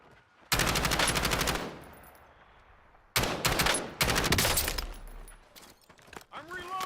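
Rapid automatic gunfire from Call of Duty Warzone rips out in three loud, dense bursts, the first lasting about a second, then a lull before two more back-to-back volleys, with quieter game sounds between.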